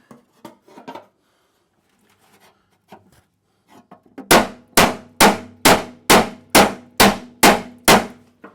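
A hammer whacks a car body panel during amateur bodywork, first some light taps and scrapes, then about nine loud, ringing metallic clangs in a steady, evenly spaced rhythm, close and alone.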